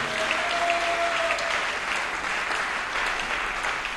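A church congregation applauds together, a dense sustained clapping that stays even and steady from start to finish with no voices over it.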